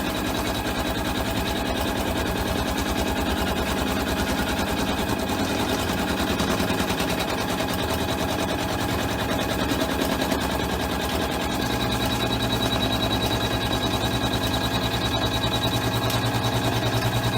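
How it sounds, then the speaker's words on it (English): An embroidery machine satin-stitching along the edge of quilted basket fabric, a fast steady needle chatter with an even mechanical hum, continuous and close throughout. "now it's stitching right along the very edge of the fabric"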